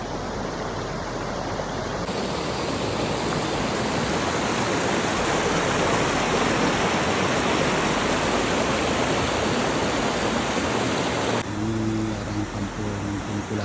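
River rushing near the Kampung Tilis bridge: a steady, loud roar of flowing water fills the whole stretch without a break.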